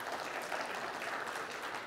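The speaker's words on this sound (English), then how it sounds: "a round of applause for all those nominees" Faint, distant applause from an awards-ceremony audience for car award nominees, a soft continuous wash of many hands clapping without breaks.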